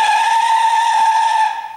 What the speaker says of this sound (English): every time the car starts or stops, it has this sound of your car starting